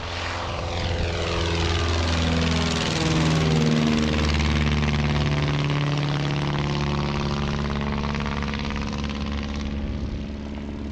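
Propeller aircraft pass overhead at an air show in Montrose, Scotland, a loud droning engine roar that sweeps across with a falling Doppler pitch, then fades steadily into the distance.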